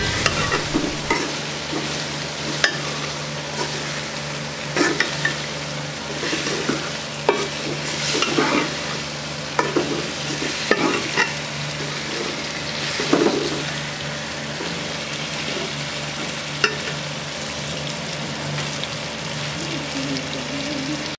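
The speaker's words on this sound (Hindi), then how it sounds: "अब हम इसमें आलू डालेंगे और उनको अच्छे तरीके से फ्राई करेंगे।" Potatoes fry in hot oil in a pan for aloo karela, with a steady close sizzle under repeated scraping stirs from a spoon at an irregular rhythm, and no talking.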